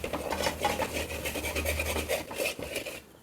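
Egg podimas, Tamil-style scrambled eggs, stirred in a pan: a steady scraping and rasping of a spoon or spatula against the pan surface, close and continuous for about three seconds, with no talk.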